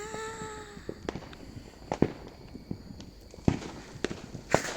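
Fireworks going off on New Year's Eve in Chiang Rai, a scatter of sharp cracks and pops at irregular intervals, some near and some farther off, over a low outdoor background hum.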